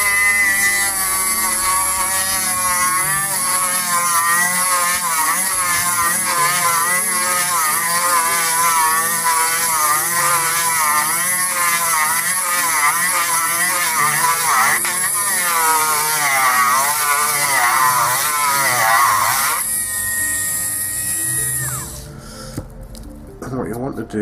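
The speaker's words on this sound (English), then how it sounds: "So with the little sanding drum, it's just a matter of running this around the inside." Small rotary sanding drum grinding around the inside of a base, a loud continuous high whine with wavering pitch for over twenty seconds before tapering off at the end.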